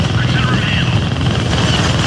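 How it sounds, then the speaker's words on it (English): A helicopter is powered up in the Deadpool video game, its engine a loud, steady broadband roar with a whining hum that continues unbroken. "they found the helicopter's on switch."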